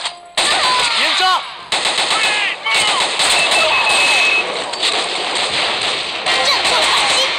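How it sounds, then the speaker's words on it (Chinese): Rapid bursts of T91 rifle fire from the shooting game 雷霆突擊 crackle loudly and close in long strings broken by short pauses, with a voice and game effects mixed underneath. "继续射击"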